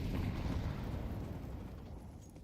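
Grenades going off in Counter-Strike during a competitive match give a deep, rumbling boom that rolls on and slowly fades over about two seconds, with no talk.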